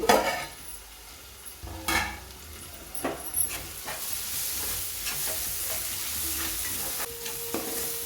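Salted vegetables for a cauliflower tomato curry fry in a pan with a steady close sizzle, broken by several spatula scrapes and clinks against the metal, no voices.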